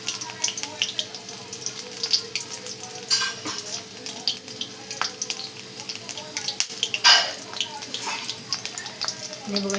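Chilli bhajis fry in hot oil with a continuous crackling sizzle, broken by occasional stirring scrapes and splashes.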